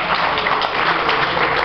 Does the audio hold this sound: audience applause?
yes